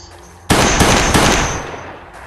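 A gun fires in the video game Last Days On Earth as a loud, sudden burst of rapid shots that starts abruptly, runs for almost two seconds and then trails off, with no talking.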